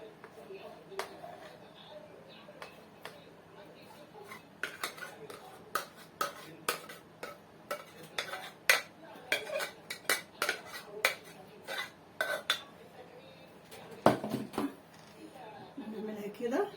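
Muhallabia pudding is spooned into a dish, with repeated sharp spoon clinks and scrapes against the dish in an irregular rhythm, close and fairly quiet, while someone talks over it.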